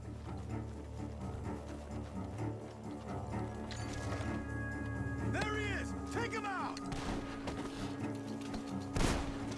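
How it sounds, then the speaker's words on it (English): Gunfire rings out from a barn in the Western video game Red Dead Redemption 2, with several sharp shots and a louder crack near the end, set against a steady game soundscape with horse-like sounds and voices talking. "The gunshots are coming from that barn."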